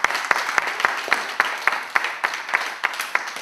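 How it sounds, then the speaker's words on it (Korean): An audience at a meditation event claps in a sparse, rhythmic way, with a dozen or so distinct claps ringing out fairly close in a room. "박수 한번 크게 주시죠."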